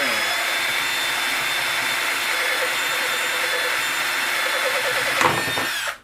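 A power drill drilling holes in an ammo box whines steadily and loudly for about six seconds, its pitch holding even before a brief jolt and a quick wind-down at the end.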